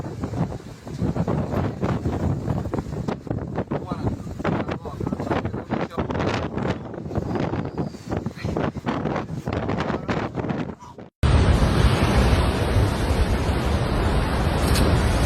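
Strong wind and pounding surf from Cyclone Harry batter the Sicilian coast, a loud continuous roar with gusty surges, and a harsher, brighter stretch of storm noise after an abrupt cut; a voice speaks over part of it.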